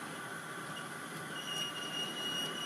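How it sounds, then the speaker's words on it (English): Squealing wheels of a small model train wagon rolling steadily along track, with a high continuous squeak over a soft running rumble. "Got a very squeaky wagon there."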